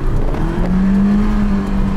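A 1.9 L, 120 hp car engine holds a loud, steady high rev against the limiter, its sustained drone rising slightly and staying close and continuous throughout.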